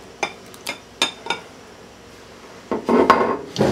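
Two eggs being mixed into a savory bacon-lettuce-tomato cheesecake batter in a bowl, a few sharp utensil taps and clinks against the bowl followed by a busier burst of scraping and clatter, close and alone.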